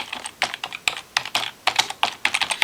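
Fingers type on a computer keyboard in quick irregular bursts of close, crisp key clicks with brief pauses between, heard alone.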